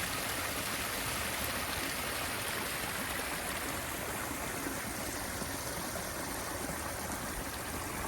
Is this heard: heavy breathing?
no